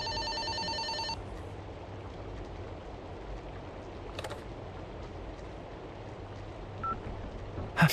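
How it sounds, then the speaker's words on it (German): Telephone in the horror game Fobia St. Dinfna Hotel, a short burst of electronic ringing tones followed by quiet ambient background with faint rain-like hiss and a few soft knocks. "Dann klingelt jetzt das Telefon."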